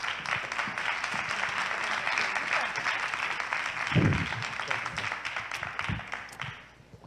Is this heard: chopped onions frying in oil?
no